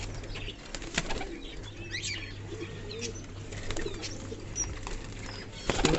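Fancy pigeons released into the air with wings flapping in short bursts, along with soft cooing and chirps nearby over a low steady background hum.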